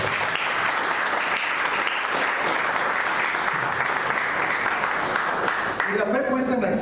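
A church congregation claps steadily and loudly throughout, a continuous wash of applause that holds its level until the end.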